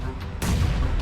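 A grenade explodes in the mobile battle-royale game PUBG Mobile, a sudden loud boom that bursts in after a quieter stretch and rumbles on to the end, with voices chattering around it.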